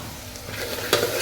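Onion, garlic and turmeric sizzle steadily in hot oil in a pan for chicken tikka fry, close and loud, with a brief scrape of stirring partway through and no talking.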